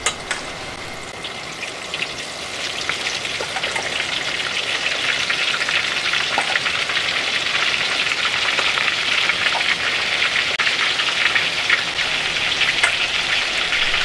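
Tenkasu (tempura batter bits for shrimp tempura) frying in hot oil: a dense, steady crackle and sizzle that swells after the start and holds loudly and evenly throughout, with scattered sharp pops and no voices.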